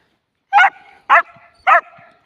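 Three sharp, evenly spaced barks from a dog at a home yard, each loud and close, with a short whiny tail after each bark and no talking.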